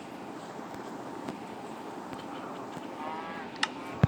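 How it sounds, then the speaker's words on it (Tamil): A cow moos outdoors with a long, low bellow over faint wind and background noise, followed by a couple of brief sharp knocks near the end. "அங்கே பாருங்க அங்கே ஒரு மாடு"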